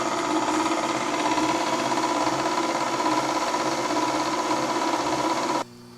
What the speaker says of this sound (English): let this thing mix up and scrape down the sides of the mixing bowl